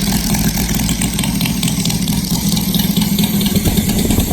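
A Saito FG-60 four-stroke model aircraft engine idles steadily with a constant buzzing drone, close and loud throughout with no change in pitch.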